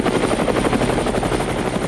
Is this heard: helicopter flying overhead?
yes